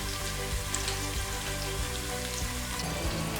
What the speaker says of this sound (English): So I'm just going to fry this down till the onion is slightly translucent